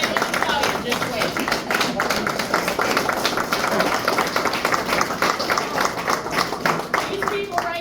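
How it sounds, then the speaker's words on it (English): Audience applause as a crowd claps steadily and densely at a fairly loud level, with voices mixed in throughout. "So if you can stand up and applaud these people for what they're going through"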